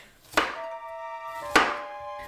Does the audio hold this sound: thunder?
no